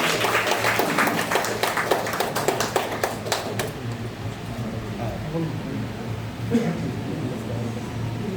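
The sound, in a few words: applause at academy inauguration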